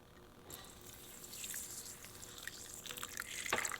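Water poured into a mixing bowl of ground flaxseed and psyllium husk for gluten-free bread, a faint trickle and splash that builds over a few seconds and ends with a brighter splash, quiet and close.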